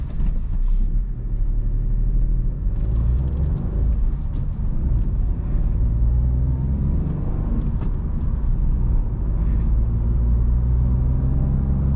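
Steady low road rumble and tyre noise inside the cabin of a 2021 Renault Clio 5 being driven, continuous and even throughout with no talking.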